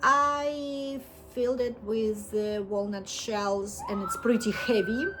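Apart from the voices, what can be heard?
sirens from a nearby fire station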